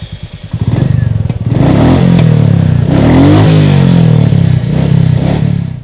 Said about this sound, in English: What makes this exhaust special is that the sound isn't too much.